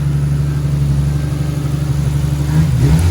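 A Nissan R33 with an RB25DET engine runs loud and close in a steady, throbbing idle, building slightly toward a rev near the end, with no talk.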